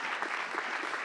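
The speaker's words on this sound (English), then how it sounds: "I think that's an applause too." Audience applause at a film festival awards ceremony, a dense, steady patter of many hands clapping, fairly soft and slightly distant, with no voices over it.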